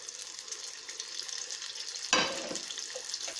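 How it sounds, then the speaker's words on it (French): Nems, French-style spring rolls, dropped into moderately hot oil over reduced heat, with a soft background hiss that bursts into loud crackling sizzle as they hit the oil, then keeps frying steadily. "Et on les passe tous dans l'huile."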